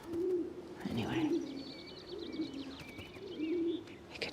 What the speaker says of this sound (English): you could hear the birds from here